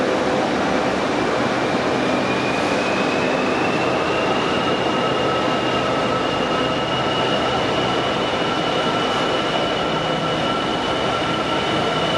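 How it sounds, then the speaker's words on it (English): A long gypsum freight train rumbles past at close range, wheels grinding and a thin metallic squeal ringing steadily over the constant roar. "This is the self-same gypsum train that I heard but didn't see at Lazenby."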